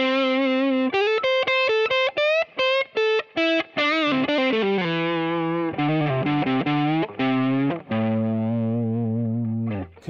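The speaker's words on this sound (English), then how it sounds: "let me do the distortion first" A Gibson ES-357 electric guitar played through distortion, with loud sustained chords and single notes that ring in bursts, some cut short, over about ten seconds with no talk.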